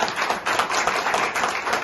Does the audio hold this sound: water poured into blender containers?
no